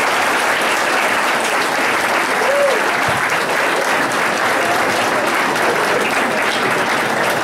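An audience applauds athletes at a Belleville Board of Education meeting. The clapping fills the room, dense, steady and sustained for several seconds.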